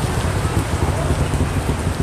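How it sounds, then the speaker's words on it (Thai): Steady rain falls outdoors near a train station, a dense continuous hiss of drops hitting surfaces that stays loud and even throughout, with no other sounds standing out. "แต่ปัญหาตอนนี้คือฝนตกว่ะ"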